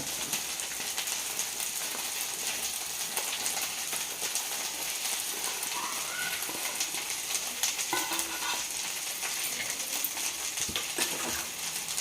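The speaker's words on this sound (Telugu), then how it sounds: "తర్వాత బీరకాయ ముక్కలు కూడా వేసుకుందాం దీంట్లో" Ridge gourd pieces go into a frying tomato masala with turmeric and salt, a steady close sizzle with stirring scrapes and light clinks running throughout, no talk.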